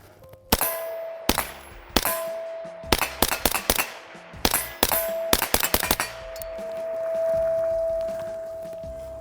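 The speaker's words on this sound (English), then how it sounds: "Listen to that harmonic ring from Shooting Targets USA" Suppressed 300 Blackout rifle, an MK18-style carbine, fires about eighteen shots in quick strings, each striking steel targets that ring with a sustained metallic harmonic tone; the final ring hangs on and fades for several seconds.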